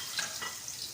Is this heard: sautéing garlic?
yes